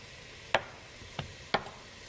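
Onions, carrots and celery sautéing in a pan, a soft steady sizzle broken by three sharp stirring knocks, with no voices.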